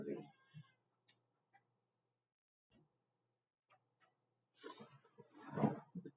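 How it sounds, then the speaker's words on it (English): A hungry house cat meows a few times indoors, the calls short and fairly close, separated by quiet gaps, with a louder burst of vocalizing toward the end. "I think my cat wants food."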